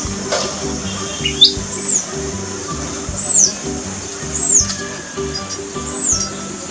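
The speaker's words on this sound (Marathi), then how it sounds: "या प्रकारे उन्हाळी दिवसामध्ये तहानलेले हे पक्षी सुद्धा आपली तहान भागवत असतात" Thirsty birds drinking on a summer day chirp in short, high-pitched calls repeated every second or so over a low hum of background noise.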